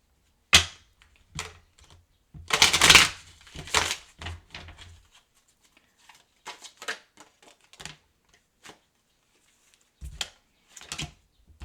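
Tarot cards being shuffled by hand in irregular bursts of crisp riffling and slapping, one dense flurry in the middle, with scattered card taps and flicks before and after, close and fairly quiet.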